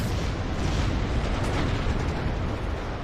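A ZIS-2 anti-tank gun fires in the WARNO strategy game, a dense, sustained booming blast and rumble filling the whole moment without pause.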